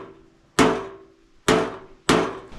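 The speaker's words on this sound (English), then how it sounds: "literally taking the flat side of this hammer and just hammering it away" A metal hammer pounds on a dented car fender in three loud, ringing blows, each with a sharp metallic crack and a decaying ring, spaced about a second apart.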